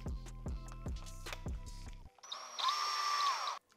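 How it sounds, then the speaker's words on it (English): Several short bursts of a drill spinning a sandpaper roll on a mandrel, with clattering onsets, then a brief gap and a higher, steady whine that holds for about a second before cutting off. "and then put it onto the drill."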